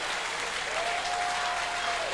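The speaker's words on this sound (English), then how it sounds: "they get a great round of applause here from the fans at Evanston High School" Fans at Evanston High School applaud during a 1994 boys swimming and diving state finals, a dense, steady round of clapping from a crowd filling the whole moment without pause.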